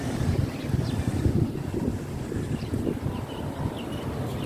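Steady outdoor wind gusting and buffeting the microphone in hot, breezy weather during a walk, a continuous low rumble that swells and eases throughout with no talking.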